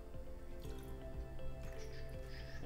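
Flor de Caña extra seco white rum is poured into a measuring jigger for a piña colada, giving a soft, continuous dripping trickle of liquid over a faint steady background hum, with no voices.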